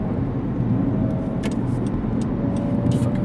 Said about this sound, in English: this guy's weaving through traffic like an idiot